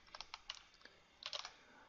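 Typing on a computer keyboard while editing text, with two quick bursts of close, light key clicks separated by a short pause.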